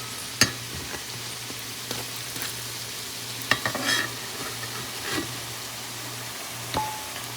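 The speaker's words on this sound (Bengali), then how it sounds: "একটু লালচে লালচে করেই ভাজা করছি, ধিমি আঁচে ভাজা করছি" Frying over a low flame gives a quiet, even crackle and sizzle with a faint steady hum underneath. A few sharp clicks and scrapes from a spatula or pan stand out against it, and no one speaks.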